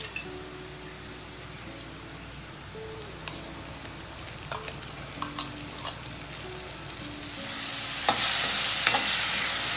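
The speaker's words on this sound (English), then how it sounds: "Saute the masala till the tomatoes go soft completely." Masala and golden-brown onions sautéing in oil for a Kathiawadi sev sabzi, a steady close sizzle with scattered stirring clicks and scrapes that grows louder and hissier toward the end; no one speaks.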